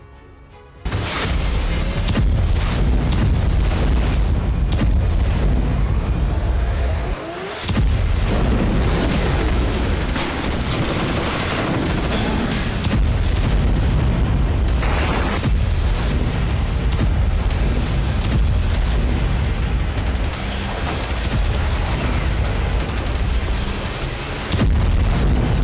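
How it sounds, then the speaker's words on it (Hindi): Heavy Russian missile strikes blasting over the city of Kharkiv, a dense barrage of loud booming explosions and rumbling detonations filling nearly the whole span, with a brief lull near the start and sharp crackling bursts throughout. "रूस की भारी भरकम मिसाइलों का हमला"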